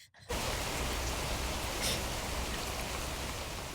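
Steady rain hiss begins abruptly and continues as an even, dense wash of falling drops, fairly close and alone with no voices.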